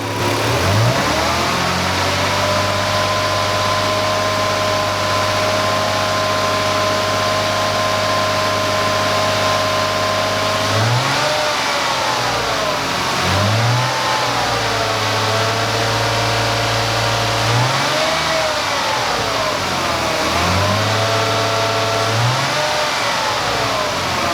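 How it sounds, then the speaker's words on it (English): Car engine with a no-code misfire under primary ignition diagnosis, idling steadily before being revved above idle in repeated rises and falls, about four throttle blips in the later half, loud and close with no talking. "We're gonna take it above idle"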